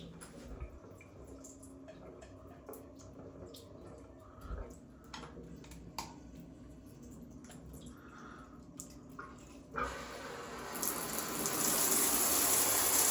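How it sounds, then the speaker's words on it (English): A hotel bathroom shower at a golf resort is switched on, and after a stretch of faint drips and small knocks, steady hissing spray rises suddenly and grows louder near the end. "that's how you turn on the shower"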